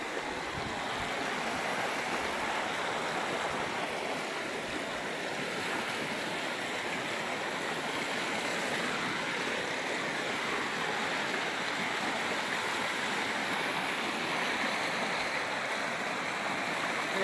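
River water flowing, a continuous broad rushing wash held at an even, moderate level for the whole stretch with no breaks and no voices.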